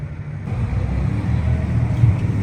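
A tractor engine rumbles low and steady from inside the cab, a constant near drone with no talk over it.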